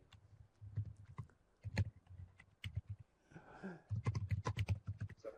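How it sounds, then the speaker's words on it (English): Keyboard typing in quick, uneven bursts of clicks, fairly close and quiet, with short pauses between flurries. "I can hear you typing."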